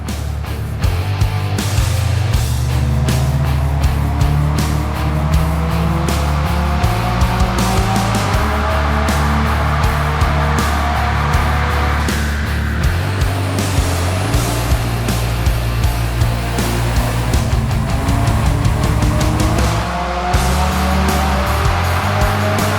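A Subaru STI with a built turbocharged engine runs a dyno pull at 22 PSI wastegate boost, a loud continuous roar with rising and falling engine tone and shifting harmonics, heavy low rumble and no talking.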